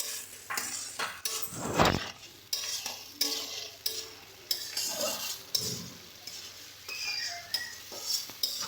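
Tomato paste being stirred into spices in a pan for cauliflower curry, with a soft sizzle under repeated scraping and clinking of a spatula, fairly close and moderately quiet.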